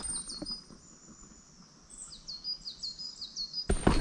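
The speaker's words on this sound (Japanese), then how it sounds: "鳥の鳴き声" Birds sing along a mountain trail on Mount Daifugen in Nara, with high, clear repeated chirps and short warbling phrases from a bird nearby. Soft footsteps patter beneath, and a louder rustling thump comes at the end.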